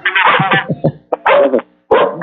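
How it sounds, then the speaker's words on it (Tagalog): Loud, close dog barking and yipping in several rapid bursts with short pauses between them, heard alone. "Gusto yata magtanong ng aso mo dyan daw."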